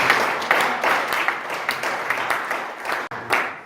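Congregation at a church seminar service applauds in sustained, dense clapping that rises and dips in short swells, loud and close, with no talk over it.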